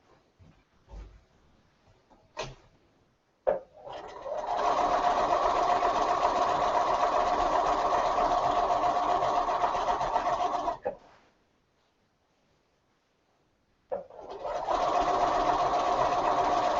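A sewing machine running steadily during machine quilting, a close, even mechanical whir that starts, runs for several seconds, stops into silence, then starts up again, with faint handling clicks before it.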